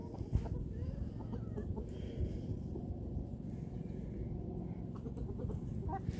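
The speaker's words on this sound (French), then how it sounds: "on filme les poules qui mangent la pâtée" Chickens feed on mash nearby, soft clucks and pecking over a low busy rumble, with a few brief louder calls now and then.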